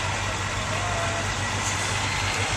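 A semi truck backing up at a summer holiday truck-pull event, a steady loud diesel rumble filling the whole stretch without pause, with no clear speech over it.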